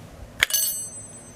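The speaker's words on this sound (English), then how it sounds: "that is a Westinghouse Dinner Bell" A Westinghouse elevator directional lantern bell strikes once, a bright metallic ding whose clear tones ring on and slowly fade, heard close and alone with no talking.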